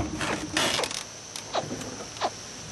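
A frog calling outdoors during a frog hunt: several quiet, creaky croaks come at uneven intervals over a soft, hissy background.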